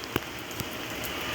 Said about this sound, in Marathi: हा बघा छान असा पाऊस आपल्याकडे